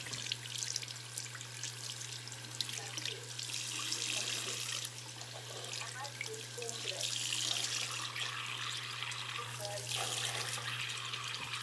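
A hot water tap runs continuously, water splashing steadily into a sink, with a low electrical hum underneath and no one speaking.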